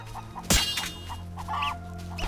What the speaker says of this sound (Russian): Куры, куры, куры.